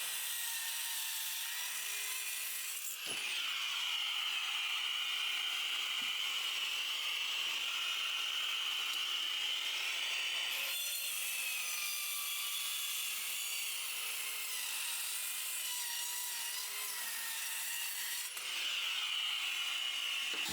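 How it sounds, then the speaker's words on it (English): A circular saw rips steadily along a marked line through a wooden bench top, its loud high whine continuous for about twenty seconds, dipping briefly where the cut restarts near the three-, eleven- and eighteen-second marks. "I cut with a circular saw on the line I did earlier."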